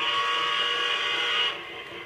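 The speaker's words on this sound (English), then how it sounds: "We'll do a whistle blow here" A steady, high-pitched model train whistle blows continuously, then cuts off abruptly, leaving a quieter hum.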